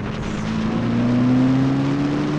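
Daihatsu Charade classic race car driving on a long circuit, a steady engine drone with a slowly rising pitch, loud and sustained throughout with no talk.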